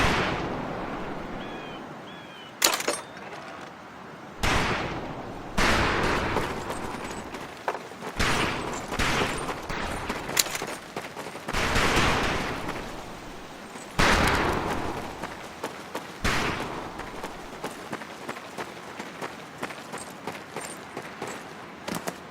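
Rifle fire on a Marine boot camp shooting range in the Medal of Honor Pacific Assault video game: repeated sharp, loud shots and bursts spread irregularly across the stretch, some close and punchy, others trailing off.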